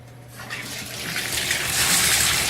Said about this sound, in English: I rinse this until the water coming out from underneath is clear, or mostly clear